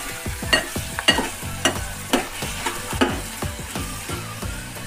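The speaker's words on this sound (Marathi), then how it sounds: "सर्व एकत्र करून ह्या भाज्या फ्राय करून घेऊया" Vegetables and masala for masale bhat stirred and frying in a pan, a steady sizzle broken by repeated scraping strokes of a spoon against the metal, close and fairly loud, with no talking.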